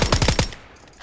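A rapid burst of about five loud automatic gunshots in PUBG, close and sharp, then a quick decay into quiet.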